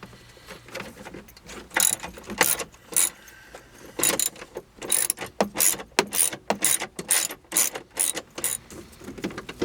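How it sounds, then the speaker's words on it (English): Quick, repeated ratchet clicks from a hand wrench loosening the airbag bolts inside a BMW M3 GTR, in short close bursts with brief pauses between strokes. "So I'm just gonna unbolt, do the 2 bolts right there, and get that out and unplug it."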